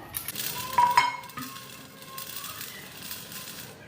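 Popped jowar being sifted with a slotted spoon, giving light metallic clinks and scraping against a pan, with faint crackling from the popping sorghum, all close and soft.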